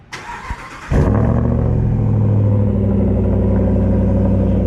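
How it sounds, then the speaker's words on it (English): A Ram pickup truck with a Hellcat engine cranks briefly on a cold start, then catches and roars to life, settling into a loud, steady, deep idle rumble. "You gotta give the boys a cold start of the Hellcat Ram."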